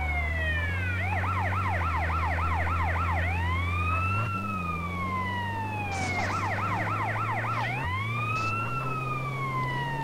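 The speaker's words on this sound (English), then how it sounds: "Sorry for the ones who can hear the ambulance coming" An ambulance siren in GTA San Andreas alternates between rapid yelping and slow wailing sweeps over a steady low engine hum, loud and close throughout.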